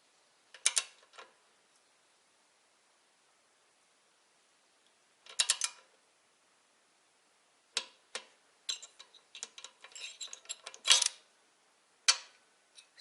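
A ratchet wrench turns a cylinder head nut on a D-250 engine in short bursts of quick clicking separated by quiet pauses, faint and close, with no talking.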